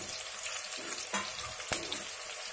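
Ginger garlic paste frying in a pan for hotel-style veg pulao, a quiet steady sizzle broken by two sharp spoon clinks against the pan, close and without talk.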